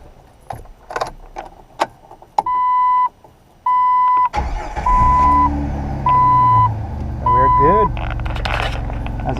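Jeep 4.0L inline-six in a TJ Wrangler or XJ Cherokee with fresh spark plugs: keys jingle, then several chimes ring before the engine cranks, catches and settles into a steady low idle close by, with more chimes over the running engine.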